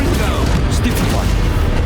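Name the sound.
Confringo explosive spell blast, Hogwarts Legacy video game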